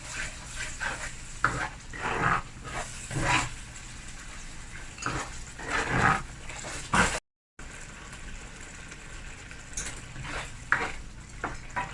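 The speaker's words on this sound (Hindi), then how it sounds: "जब मसाला हम फ्राई कर रहे हैं" Masala fries in a pan for an egg, potato and chickpea gravy, with intermittent stirring scrapes and bursts of sizzle over a low background, one short dropout midway.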